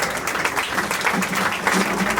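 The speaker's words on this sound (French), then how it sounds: "Nous acclamons." A congregation at a mourning ceremony claps together in a short burst of uneven applause that sounds close and fairly loud, with voices mixed in.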